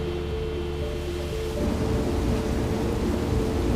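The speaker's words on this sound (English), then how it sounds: "Okay, Steve, can we get some rain in the northeast quadrant, please?" Simulated rainfall poured over a research forest model inside the Biosphere, a steady hiss of falling water that swells louder partway through, alongside a low mechanical hum and rumble.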